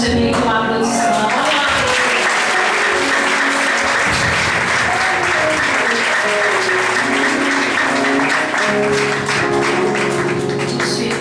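A church congregation claps for a long, steady stretch, the dense applause loud and close throughout. Musical tones sound underneath the clapping.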